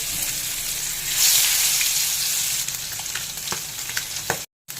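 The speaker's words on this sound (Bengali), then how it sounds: "তেল গরম হয়ে গেছে মাছগুলোকে তেলের মধ্যে ছেড়ে দেব" Katla fish frying in hot mustard oil in a frying pan, a steady close sizzle with scattered crackles and pops that swells briefly when the fish goes in, then settles. No voices.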